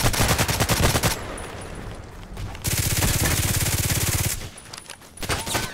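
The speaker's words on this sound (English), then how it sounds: "You see how many shots I need to bring him down?" SVU-AS rifle gunfire in the shooter game Contract Wars comes in two long rapid bursts of sharp repeated shots, separated by a short lull, loud and close.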